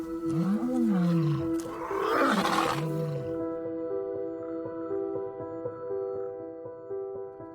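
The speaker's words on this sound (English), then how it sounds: "that's why you hear now they're roaring on that side and they roar on this side" Lions roaring in a wild game reserve, with deep, loud groaning roars close by over the first few seconds, then quieter answering roars from a pride farther off.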